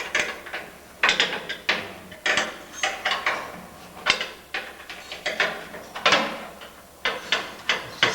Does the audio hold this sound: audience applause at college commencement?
no